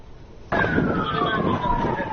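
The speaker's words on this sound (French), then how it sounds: "Le cri des sirènes" An emergency siren wails loudly in war-torn Syria, starting abruptly and holding a long, slowly falling tone over the rumble of a street.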